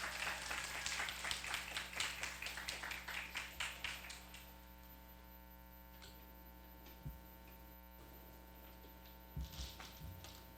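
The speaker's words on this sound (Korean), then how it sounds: "수고한 우리 조희상 학생 다시 한번 박수로 받쳐주시기 바랍니다." An audience at a Korean school event claps in a dense burst of applause that fades out over several seconds, leaving a steady electrical hum with a few faint knocks and shuffles.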